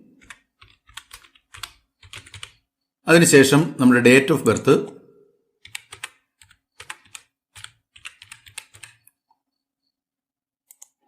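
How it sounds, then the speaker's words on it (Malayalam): Rapid, close key taps on a computer keyboard as details are entered into an online login form, scattered clicks running before and after a short stretch of speech. "ഇവിടെ നമ്മൾ ആദ്യം നമ്മുടെ പെൻ നമ്പർ ടൈപ്പ് ചെയ്യുന്നു."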